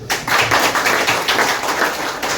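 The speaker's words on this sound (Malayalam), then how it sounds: "അപ്പൊ മൂർ സാറിന് ആദ്യത്തെ കയ്യടി കൊടുക്കുക" An audience at a training session claps for the speaker, a brisk burst of many hands applauding continuously and fairly loud from start to finish, with no voices.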